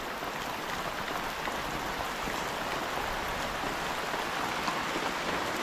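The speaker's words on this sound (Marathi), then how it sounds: "मित्रांनो पाऊस कमी झाला आता" Steady, dense monsoon downpour in the Konkan countryside, a continuous even hiss of rain with no pauses and no voices, fairly close and moderately loud.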